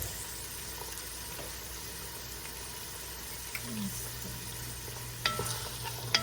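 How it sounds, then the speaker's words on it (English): Vegetables sauté in a pan as a soft, steady sizzle under a low background hum, with a few small clicks and scrapes toward the end. "All I'm gonna do is let all of these veggies saute."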